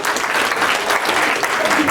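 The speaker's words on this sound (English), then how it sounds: "Let's all give Professor Know-It-All a big round of applause." A studio audience applauding a comedy show's professor character, a short burst of dense clapping, loud and even across its two seconds.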